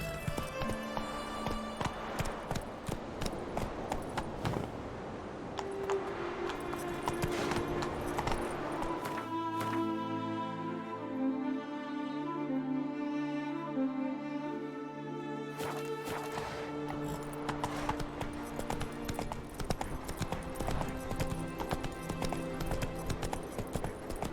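Horse hooves clip-clop steadily in The Witcher 3, the gait close and continuous under a game music score, with no talking.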